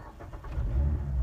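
A Mazda MX-5 RF engine fired by push-button start, a brief low churn swelling into a loud, steady idle rumble close up.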